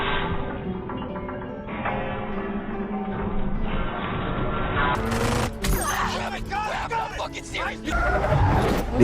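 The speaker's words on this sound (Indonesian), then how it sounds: "keluar mobil dan memberondongkan tembakan ke musuhnya" Rapid bursts of gunfire in an action film street scene break out in the second half amid film sound and car noise, loud and repeated, with a narrator speaking over it.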